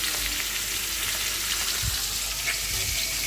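Fish and spices fry in a pan with a continuous, dense sizzle, and a few soft stirring knocks come through underneath.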